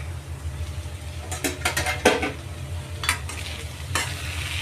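Spring onion greens with dried fish sauté in a pan. A soft sizzle is broken by several bursts of spatula scraping and stirring, close by and without talk.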